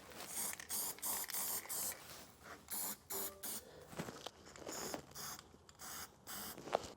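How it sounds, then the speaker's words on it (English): Black spray paint hisses onto drilled truck bed metal in a series of short bursts, roughly a second each with brief gaps, close and fairly quiet, with light handling scrapes between. "we're just going to use some black spray paint"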